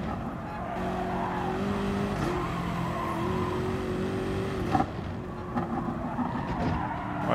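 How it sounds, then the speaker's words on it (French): Race car braking hard in Gran Turismo Sport, a steady engine drone with tire squeal and skidding, pitch sliding downward as the car slows, close and continuous. "Voilà, j'ai dû freiner."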